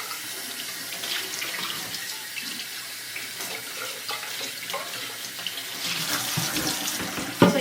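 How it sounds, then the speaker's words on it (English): Tap water runs steadily into a sink while coffee grounds are rinsed out of a French press: a constant close splashing hiss throughout, with a small knock right at the end and no voices. "Then I'm just going to rinse the coffee grounds out."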